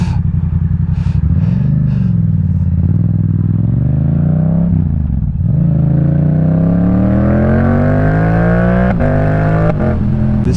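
A Yamaha MT-07 motorcycle engine revs and accelerates loudly up close, its pitch rising through gears with brief drops at shifts, a gruff throbbing tone under wind.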